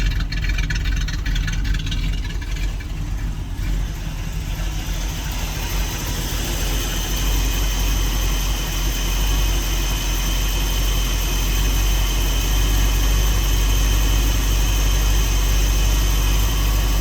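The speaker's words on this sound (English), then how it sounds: "So there's the exhaust." A 1974 Dodge stepside truck idles steadily through its exhaust, a loud, close, continuous low rumble that holds even with no breaks, and no talking.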